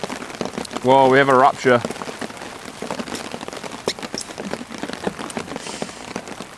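Heavy rain drums on a camping tent during a storm, a dense steady patter of close drops running throughout, with a person talking briefly over it near the start.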